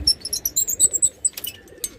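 A Shajapuri pigeon calls close by in a short run of soft, rhythmic coos, about a dozen quick pulses followed by a couple of fainter notes.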